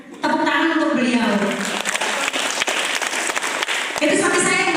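Audience applause at an event in Yogyakarta, clapping for someone speaker's husband, sustained and fairly loud through the middle, with a voice talking over the start and end.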